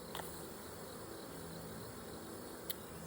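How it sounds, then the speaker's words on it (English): Honeybees in an open backyard hive with cross comb produce a steady, dense buzzing hum that fills the scene throughout, with one brief louder buzz as a bee passes close near the end. "there are a lot of bees in here"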